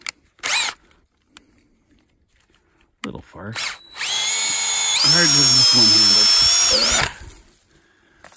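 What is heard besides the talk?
power drill boring tap hole in tree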